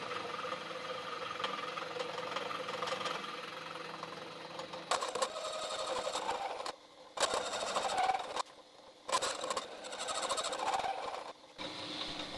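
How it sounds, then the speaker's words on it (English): Milling machine cutting steel caster plates down to thickness, a continuous loud grinding and whirring hum that breaks off into short pauses and restarts toward the end. "I need to mill them down to thickness, and while I'm at that, I'll clean up the other edges."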